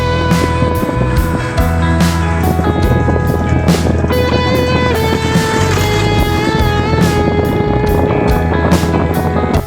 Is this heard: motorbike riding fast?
yes